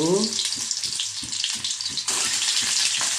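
A boiled egg frying in oil on a low flame, a bright steady sizzle close by that swells louder partway through, with soft rhythmic tapping and a brief voice at the start.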